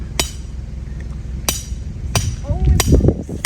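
A mooring stake is hammered into a canal bank: four sharp, ringing strikes land at uneven intervals over a low, steady background rumble, with a voice talking briefly toward the end.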